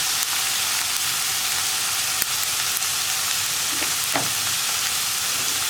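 Cabbage with salt and turmeric stir-frying in a pan, a steady close sizzle with occasional scraping stirs, no talking over it.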